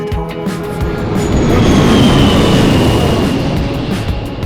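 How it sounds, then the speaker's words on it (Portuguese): A loud airplane sound effect roars over music in a Just Dance video game, swelling to a peak midway and sustained as a heavy drone that covers the song's lyrics. "passa um avião fazendo um barulho gigantesco bem alto para censurar as pílulas"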